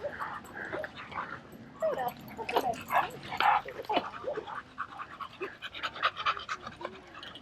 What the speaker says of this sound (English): Two pit bulls.